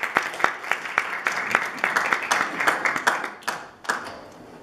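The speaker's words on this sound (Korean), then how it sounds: "큰 박수 부탁드립니다" Audience applause for a student speaker at a Korean school speech contest in the U.S., a lively crowd clapping steadily, with a few sharp, louder claps standing out near the front.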